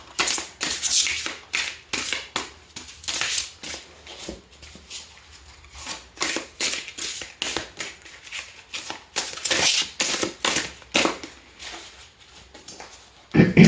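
Tarot cards being shuffled by hand close up, bursts of crisp riffling and slapping in an irregular rhythm with short pauses, no talking.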